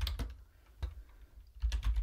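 Quick keystrokes on a computer keyboard while a Linux command is typed, a few close clicky taps in short bursts with quiet pauses between them.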